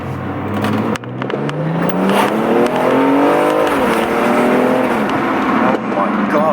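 A BMW M235i engine with a performance intake revs hard close by as the car accelerates, its pitch climbing steadily through the gears with a throaty intake roar.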